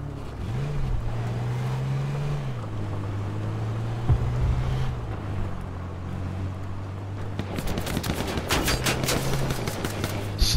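Automatic rifle fire from an AK in the H1Z1 battle royale game, a burst of sharp shots toward the end over a steady engine drone from a vehicle.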